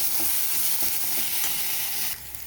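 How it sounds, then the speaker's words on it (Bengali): Ginger garlic paste and onions stir-fry in a hot pan, giving a steady loud sizzle with regular scraping stir strokes; the sizzle drops off sharply near the end. "আদা রসুনের পেস্টটাকে আমি খুব ভালো করে কষিয়ে নেবো পেঁয়াজের সাথে"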